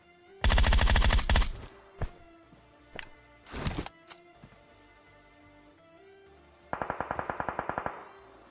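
Automatic gunfire in BGMI: a loud rapid burst, a few scattered single shots and a short second burst, then after a pause another fast, evenly spaced volley.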